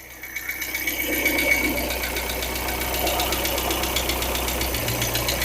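Ford Cosworth engine idling steadily in a workshop, with a busy mechanical clatter and fine rattling ticking running through the drone from one noisy lifter, fairly close and constant with no talk.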